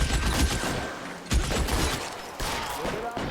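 Gunfire in the video game L.A. Noire, a dense run of overlapping shots and bursts that sounds like a firefight, loud and continuous across the clip, with some voice activity mixed in.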